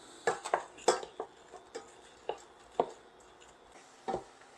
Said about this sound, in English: we're going to stir this continuously for 12 to 15 minutes until the onions start to get a little golden